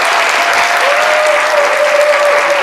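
Sustained applause from an audience at a team presentation event, loud and dense with many hands clapping steadily throughout, a faint tone running underneath.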